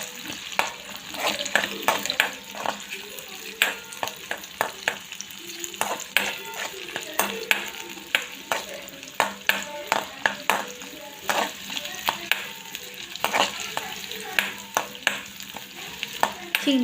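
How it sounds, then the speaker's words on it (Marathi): Potatoes and whole peanuts fry in hot oil with a continuous close crackle and sizzle, punctuated by frequent sharp pops and stirring clicks throughout, with no talking. "बटाटे असे फ्राय करून घेऊया. त्याचबरोबर आपली अख्खे शेंगदाणे पण फ्राय करून घेऊया."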